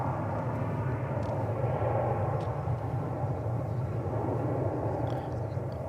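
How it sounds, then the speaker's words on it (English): A Boeing 787 Dreamliner arriving at DFW Airport after a flight from Paris gives a steady, distant jet roar that fills the whole stretch with an even broadband rumble. "we can make out this Dreamliner that's arriving from Paris."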